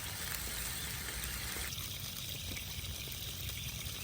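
Water pours onto a hot Blackstone griddle at a campsite and steams, a steady hissing wash that shifts partway through and continues without talk.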